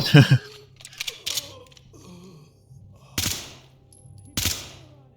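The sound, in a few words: 9mm gunfire in the video game Ready or Not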